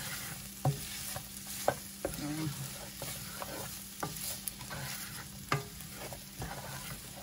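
Onions stir-frying in a hot pan for a beef stir fry, with a continuous close sizzle broken by regular scraping and tapping from stirring utensils, and no voices.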